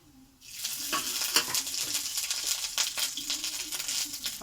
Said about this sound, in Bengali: তেলটা আমার খুবই গরম হয়ে গেছে। দিয়ে দিলাম তেজপাতা, তেলের সঙ্গে দিয়ে দিলাম জিরে।